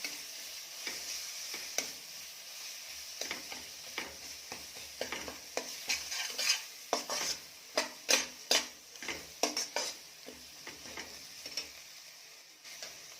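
Ginger garlic paste sautéing with masala in a pan for Kolhapuri mutton rassa, a steady soft sizzle broken by repeated scraping stirs that grow quicker and louder midway, close up, with no voices.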